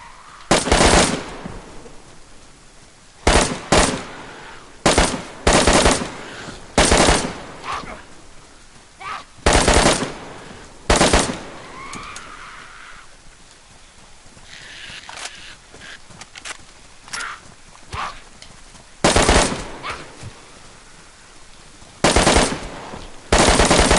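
Gunfire from in-game weapons in DayZ on PS4, heard as repeated loud bursts of rapid automatic shots with gaps between volleys, plus a few fainter single shots in the pauses.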